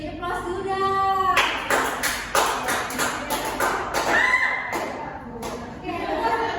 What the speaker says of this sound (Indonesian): Beri aplaus dulu dah.